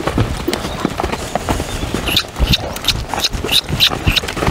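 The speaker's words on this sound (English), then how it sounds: "I'm going to try to lope him off again here." Two-year-old colt loping in a round pen, its hooves thudding in a quick, steady three-beat rhythm on soft ground, close by and fairly loud, with faint snorts and a little background voice.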